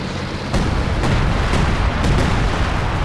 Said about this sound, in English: Drops the artillery on it though.